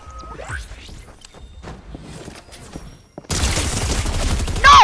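Rapid bursts of video game gunfire erupt loudly near the end of a ranked multiplayer shooter match, following a quieter stretch of faint footsteps and movement sounds.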